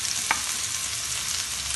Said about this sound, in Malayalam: രണ്ട് ടൊമാറ്റോ അരിഞ്ഞതും കൂടി ചേർത്ത് നന്നായി നമുക്കൊന്ന് വഴറ്റി കൊടുക്കാം